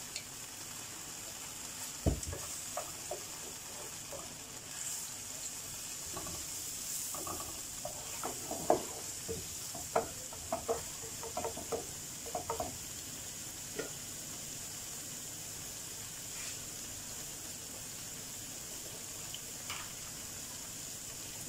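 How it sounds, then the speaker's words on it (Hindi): Boiled beef coated in tikka masala frying in a pan while being stirred, a steady sizzle broken by scattered scraping clinks of the spoon through the middle, fairly quiet and close with no talking. "बस हल्का सा फ्राई करना है इसमें डाल के, मसाला लगा हुआ है, टिक्का मसाला लगाया है मैंने"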